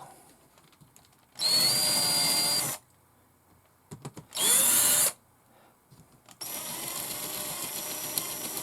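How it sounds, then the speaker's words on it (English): A countersink drill bit runs in short bursts to tidy drilled holes in parts of a Tamiya DT04 radio-controlled car, the steady whine rising and stopping three times between quiet pauses, close and loud. "so I'm just going to run a countersunk drill very gently, just to tidy it up."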